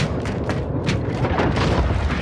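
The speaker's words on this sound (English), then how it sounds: "Allied cruise missile launched." A cruise missile launches during a multiplayer shooter match, a loud sustained rumbling roar with scattered booms and bursts of gunfire layered through it, filling the whole moment without voices.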